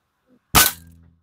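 A single sharp crack from an SDB Sniper air rifle fired at a red bottle cap target about 20–25 metres away, loud and close, followed by a brief ringing decay.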